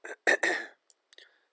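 A man with a sore throat gives a few sharp, close coughs and throat-clearing bursts in quick succession, followed by softer faint catches.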